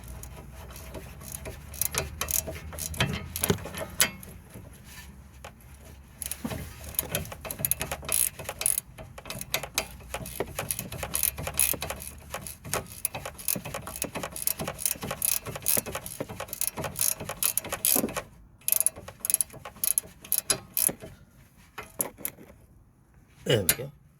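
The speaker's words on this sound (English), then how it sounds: "Just gonna tighten the nylon nut." A ratchet tightens a nylon nut on the anti-roll bar link of a Mercedes B Class W245. It gives close, uneven runs of clicking with pauses and a few scraping clatters, and faint speech comes in here and there.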